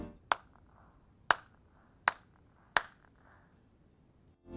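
Four sharp single hand claps at uneven intervals, each ringing briefly in a quiet room, with nobody joining in.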